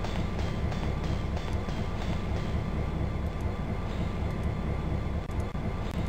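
Video game train from Chronomaster rolling along, a steady loud low rumble with faint rhythmic clacking ticks running continuously, no talking.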